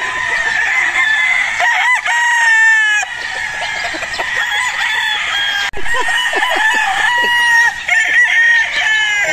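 Battle stag roosters crow repeatedly on a gamefowl farm, loud and close with overlapping calls and some clucking, the crows stretching out in long rising-and-falling bursts.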